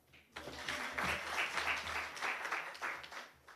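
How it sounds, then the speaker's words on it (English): Audience applause at a women's summit in South Africa, honouring the event's MC; a steady, moderately loud burst of clapping heard at some distance, rising quickly and tapering near the end. "A big round of applause for our very capable MC"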